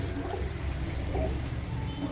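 Pigeons belonging to a Punjabi pigeon keeper coo in a low, steady murmur, soft and continuous with a few brighter call notes rising over the rumble.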